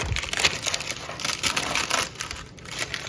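Crisp baked carnivore chips snap and crunch as they are broken into pieces, a close run of irregular crackles and crumbling with no talk.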